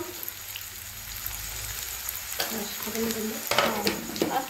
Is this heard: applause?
no